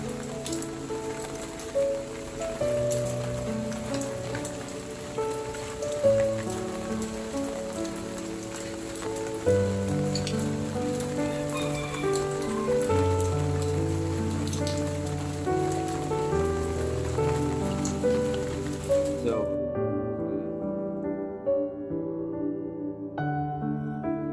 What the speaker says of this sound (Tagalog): Kala ko huminto na yung ulan, bigla na namang